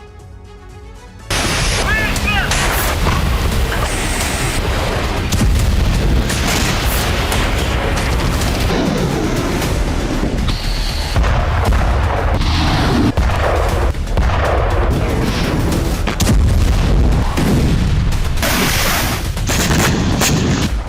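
Ukrainian missile and suicide drone strikes hit Belbek airbase near Sevastopol, a loud, sustained barrage of booms and rapid gunfire-like bursts rolling continuously after a brief quieter opening.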